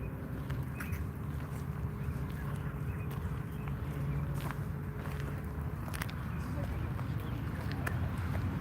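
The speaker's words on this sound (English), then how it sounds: "This goose still coming at us." A goose near the water in Washington, DC gives repeated honks and quacks against steady outdoor background noise, with people talking nearby.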